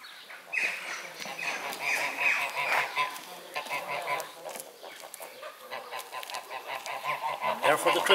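Geese on a farm in East Galway, Ireland, honk repeatedly in an overlapping flock chorus, fairly near, with a voice speaking briefly among them.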